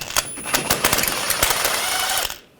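An air or electric impact tool spins bolts out with a 15mm socket on the front hub of a 2014-2018 GMC Sierra 1500. It rattles loudly in rapid bursts for about two seconds, then stops abruptly.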